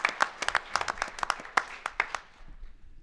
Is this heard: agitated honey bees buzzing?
no